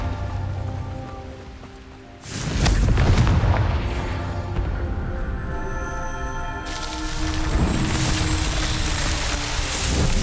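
A Confringo blasting spell detonates in the Hogwarts Legacy video game, giving a loud booming explosion with a rumbling burst that lingers, then a hissing, crackling tail as the blast fades.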